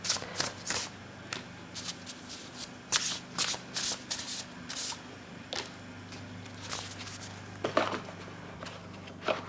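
Tarot cards shuffled by hand in quick riffling bursts, each a crisp flutter, repeated at close range with short pauses between and no talking.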